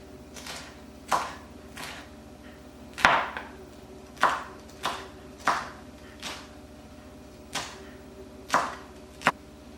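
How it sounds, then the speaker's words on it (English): A knife cuts peppers into strips on a cutting board, about ten separate crisp chops spaced irregularly about a second apart, close and clear with no talk. "Now I'll slice these into strips as well."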